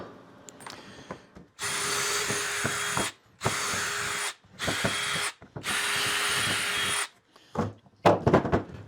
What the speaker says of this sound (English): I'll secure these together so that I can drill that and get that part done